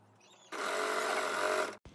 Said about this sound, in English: I'm done stitching it down now